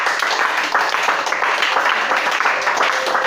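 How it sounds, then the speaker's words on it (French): A church congregation applauds loudly and steadily at a worship service to acclaim Jesus, a dense, sustained wash of clapping from many hands with voices mixed faintly underneath. "On acclame le Seigneur Jésus."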